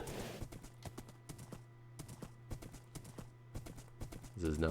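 A horse in Minecraft clip-clops at a steady trot, with crisp, evenly spaced hoof clicks over a low hum. A brief sound cuts in at the very end.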